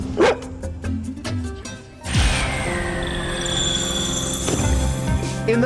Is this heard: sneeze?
no